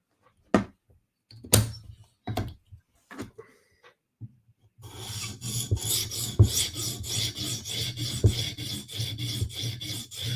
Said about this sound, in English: So we're using my 150 grit stone. Profiling just lightly.